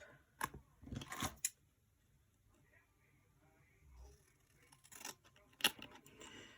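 Scissors snip through paper while a photo is trimmed to size, coming as a few short sharp cutting bursts with quiet pauses between them.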